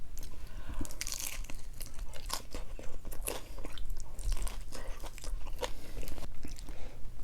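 Crunchy bites and wet chewing of chicken tacos, close to the mic, repeating in a steady rhythm for several seconds with no talking.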